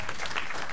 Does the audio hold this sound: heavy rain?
no